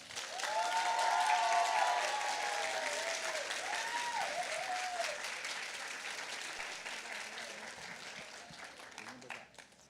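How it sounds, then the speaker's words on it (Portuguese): Audience at a meeting with a writer applauding her arrival, a full burst of clapping that slowly thins out, with cheers and voices calling over it early on. "vamos receber com uma salva de palmas nossa querida Paula."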